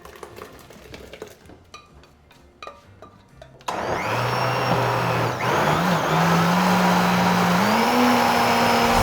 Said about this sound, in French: Et on met dans notre mixeur.